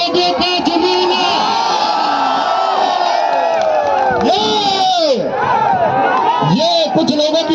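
A large crowd at a felicitation ceremony for selected students in Greater Noida cheers and whoops continuously, loud and dense throughout, with rising shouts layered over the constant roar.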